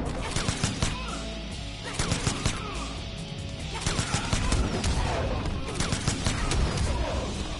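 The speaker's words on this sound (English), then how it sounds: "what you can notice is that Jacqui's recovery after her enhanced shooting" Rapid shooting attack in a fighting game, a loud dense barrage of crackling shots and impact hits repeating fast and continuously throughout, with a speaking voice partly underneath.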